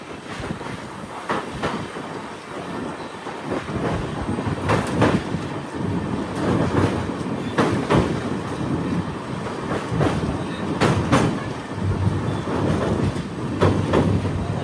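Matsyagandha Express rolling across the Netravati river bridge, a continuous loud rumble with repeated clickety-clack beats from the wheels over the rails, carrying on unbroken for the full stretch.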